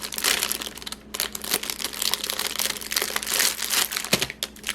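Thin clear plastic packaging for button maker supplies crinkles and crackles up close as it is pulled open by hand, a dense continuous rustle with a few sharper crunches, no talking.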